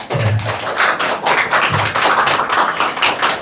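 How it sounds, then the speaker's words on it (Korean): A church congregation applauds during a Sunday worship service, a short burst of hand claps indoors that rises and falls over a few seconds. "우리 박수 한번."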